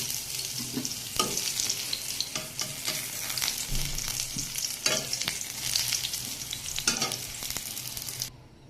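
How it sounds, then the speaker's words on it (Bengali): Pointed gourd (potol) frying in a pan with oil, a steady close sizzle broken by repeated scraping and stirring strokes, continuing without talk until a sudden cut near the end. "আমার পটলটা কিন্তু উল্টে পাল্টে বেশ ভালো করে ভেজে নিয়েছি"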